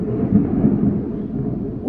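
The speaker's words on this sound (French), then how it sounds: "Je ne sais pas si vous entendez, mais le tonnerre est là." Thunder rolls as a low, sustained rumble, loud and close, swelling and fading for nearly two seconds with no other clear sound.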